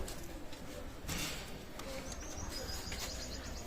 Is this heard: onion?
no